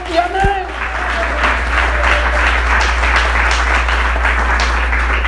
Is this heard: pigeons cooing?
no